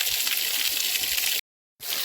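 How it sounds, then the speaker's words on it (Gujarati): A small waterfall stream in green countryside in Gujarat rushes in a steady broadband roar, loud and close, broken by a brief silent gap before resuming. "તો હવે અત્યારે છે ને ઝરણાની હાવ નજીકથી તમને બતાવું"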